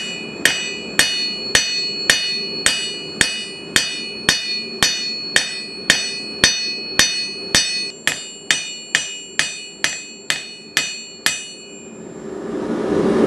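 A hand hammer strikes hot steel on an anvil while a crowbar end is forged into a single bevel chisel point: about twenty loud, sharp, ringing blows in a steady rhythm, quickening slightly toward the end, then stopping.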